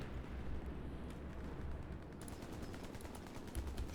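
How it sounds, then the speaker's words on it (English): Gunfire in an online shooter video game, heard as a dense, rumbling stretch of distant shots and rattling bursts throughout, with faster sharp cracks toward the end. "Shooting there."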